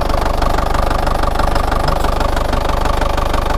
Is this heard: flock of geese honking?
no